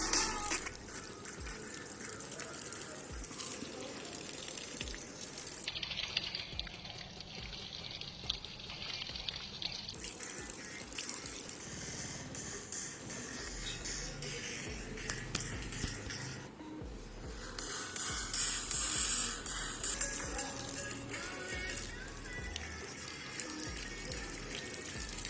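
Water gushes and pours steadily over a Realme XT smartphone during a durability drenching test, a continuous splashing hiss that shifts in intensity across the pour, with no talk.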